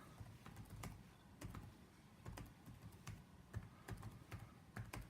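Quick, irregular clicks of fingers typing on a computer keyboard while an email is composed, with soft keystrokes in uneven bursts and short pauses, close by and alone.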